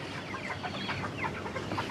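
A flock of broiler hens clucking close by, a dense overlapping chorus of short, busy calls filling the whole moment.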